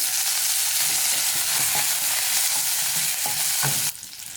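Small pieces of ginger and two sprigs of curry leaves fry in hot oil with a loud, steady crackling sizzle and faint stirring, then the sizzle drops abruptly near the end.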